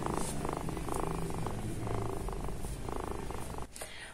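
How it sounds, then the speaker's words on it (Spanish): A pet cat purrs close to the microphone, a soft continuous rhythmic rumble pulsing steadily with each breath throughout, alone and without talk. "Se escuchan sus ronroneos."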